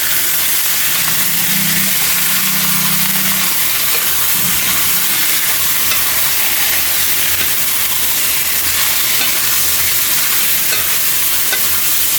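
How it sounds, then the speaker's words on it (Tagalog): Pork for adobo frying and stirred in a pan, a steady loud sizzle with scraping stir strokes throughout, no talking. "ilagay na natin yung pork natin. Yan. Ikot lang natin yan."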